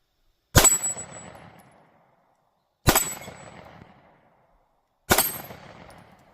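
Three pistol shots ring out on a six-inch steel target, each a sharp crack with a metallic ring that decays over about a second, evenly spaced roughly two seconds apart, outdoors with no talk.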